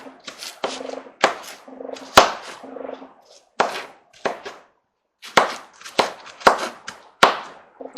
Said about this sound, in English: You want to use about 3 tablespoons of these shallots, and we'll just kind of mince them down here.